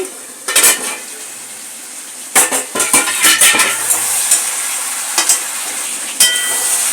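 A pot of spicy chicken curry being uncovered and stirred: metal lid and spoon clatters in bursts over a steady frying hiss, close by.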